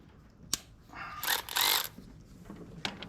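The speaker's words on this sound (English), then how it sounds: "now let's take out the intake bolts" Ratchet wrench working intake manifold bolts on a 1981 Corvette engine during winter maintenance, a few sharp clicks and short bursts of rapid ratcheting, close and fairly quiet.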